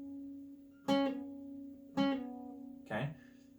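A guitar note rings steadily while three plucked attacks sound about a second apart, the last one muffled and buzzy.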